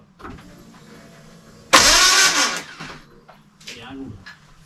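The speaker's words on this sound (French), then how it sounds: "Le démarreur fait un bruit gelou." A Renault 11 Turbo starter motor spins with a loud, harsh whirring grind lasting about a second without turning the engine over, followed by quieter mechanical clatter and people talking nearby.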